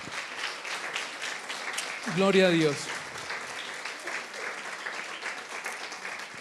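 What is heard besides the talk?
church congregation applause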